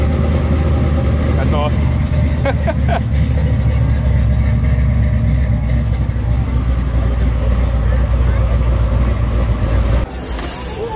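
Custom-built car engine idling close by, a loud, deep, rumbling burble with uneven throb that carries steadily throughout, while people talk over it and a brief change in the sound comes near the end.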